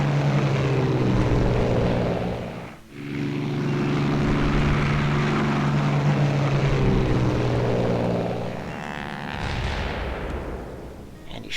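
Propeller warplanes from the strategy game Civilization III drone steadily with a loud, rumbling engine roar, dipping briefly partway through before a swelling, rising pass near the end.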